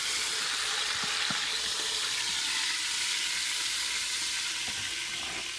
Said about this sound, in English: I can put the onions in the Instant Pot and cook the